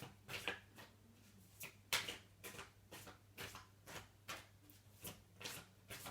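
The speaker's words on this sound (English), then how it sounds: "And we'll just shuffle the cards." Tarot cards being shuffled, a series of soft riffling bursts at a steady rhythm, close and quiet, with no talking.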